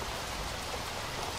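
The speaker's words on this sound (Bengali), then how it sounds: "কেমন ঝড় বৃষ্টি শুরু হয়েছে?" Steady storm rain pours down in a Bengali horror cartoon, a dense, even hiss of falling water heard alone and unbroken throughout, with no voices.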